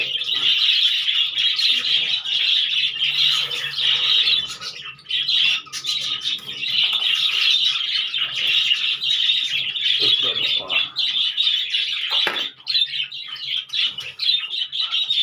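Many small caged pet birds chirp and squawk together continuously, a dense, busy chorus of high calls close by with brief pauses.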